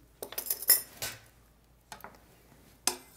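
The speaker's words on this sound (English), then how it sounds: "Give that a few big stirs" White chocolate truffle mixture with pumpkin spice stirred with a spoon in a bowl: a handful of quick clinks and scrapes, then a pause and two more separate knocks.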